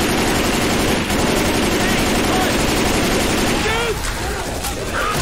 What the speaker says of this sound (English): This gun sounds freaking awesome